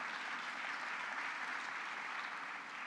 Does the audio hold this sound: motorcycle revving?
no